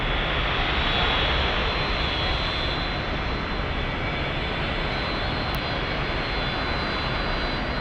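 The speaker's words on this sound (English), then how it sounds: "Let's see if they're cleared for takeoff." Airliner jet engines roaring at San Francisco International Airport during takeoff, a loud, steady, broadband rush that holds constant throughout with no voices.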